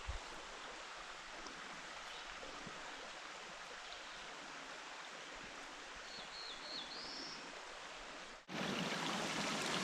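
A mountain stream rushes over a trail water crossing on the Indian Pass Trail in the Adirondack High Peaks. It makes a steady, full wash of water with a brief bird chirp, then surges louder near the end.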